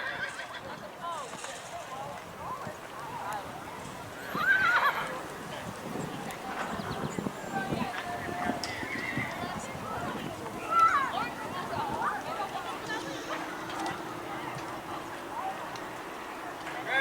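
A horse whinnies twice, loud and close, at an outdoor horse obstacle challenge, over a steady background with faint hoof clatter and murmured voices.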